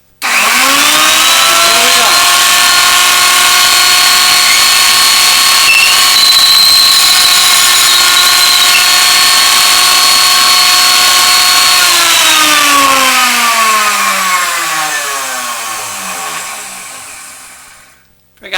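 Router cutting a pine dowel that an electric drill turns, a loud steady high whine held for about twelve seconds, then dropping in pitch as it spins down and cuts off.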